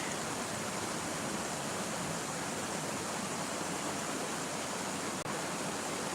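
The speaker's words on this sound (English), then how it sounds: "Just love the sound of the running water." A rushing stream of running water near Kurama, Kyoto, on a rainy February day, heard as a steady, even broadband wash that stays constant throughout with no voices.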